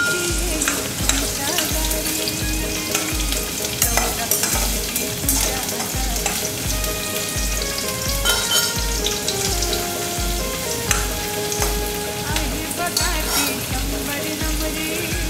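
Onion frying in hot oil with a ginger, garlic, coriander and chilli paste, a loud continuous sizzle with rhythmic scraping of a spoon stirring the pan throughout.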